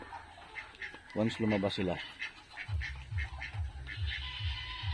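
Several ducks quack in a short burst of loud, close calls on a farm with laying and brooding ducks nesting in rice hull, while a person talks over and after them.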